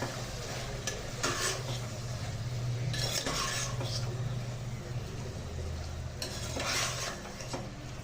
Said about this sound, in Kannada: ಇದು ಒಂದು 5 ನಿಮಿಷ ಎಣ್ಣೆಯಲ್ಲೇ ಬಿಸಿ ಆಗಲಿ, ಚೆನ್ನಾಗಿ ಫ್ರೈ ಆಗಲಿ ಫ್ರೆಂಡ್ಸ್.